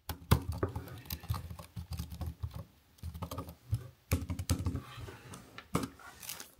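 Someone types on a Huawei Ultrathin keyboard, an imitation of the Apple Magic Keyboard, in quick, dense bursts of soft, low clicks with brief pauses between them, recorded close and fairly quiet.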